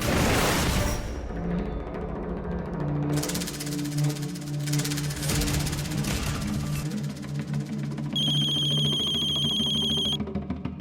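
A telephone rings with a steady, bright electronic tone near the end, over loud dramatic background music in a crime drama scene set at home; no one speaks.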